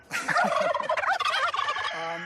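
Wild turkeys gobbling loudly and close, a rapid burst of rolling, bubbling gobbles overlapping one another, ending in a held call.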